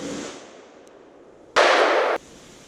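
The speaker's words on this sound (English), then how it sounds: "Now we're going to the trusty 50 AE with a 350 grain jacketed soft point." A single loud gunshot from a .50 AE handgun firing a 350 grain jacketed soft point at steel targets, a sharp broadband blast lasting about half a second after a quiet stretch.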